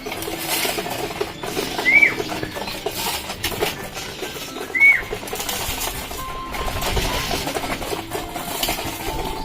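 Pet birds in cages make two brief, high chirps, heard at close range over a steady background hum and scattered clatter.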